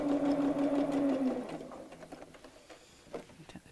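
A sewing machine runs steadily, stitching long tacking stitches on a craft mat bag for about a second and a half, then gives way to quieter fabric handling and small clicks, close and alone with no talk.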